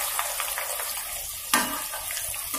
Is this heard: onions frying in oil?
yes